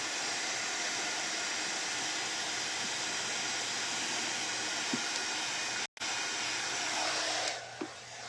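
Steady loud whooshing blast of a heat tool warming decoupage paper and paste on a wooden tea chest, continuous close airflow with a brief cut near the end, no talk.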